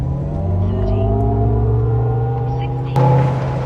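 A 9,000-pound, 1,000 hp Hummer EV electric pickup launching from a standstill, a loud steady low rumble and whine of rising motor and road noise, with a sharp burst near the end.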